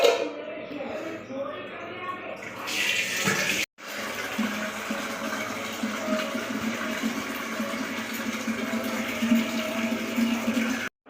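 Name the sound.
water filling a container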